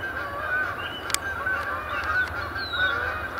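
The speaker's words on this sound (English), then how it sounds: "Geese coming in." A flock of geese honking repeatedly from a distance, overlapping calls over a steady outdoor background with no talking.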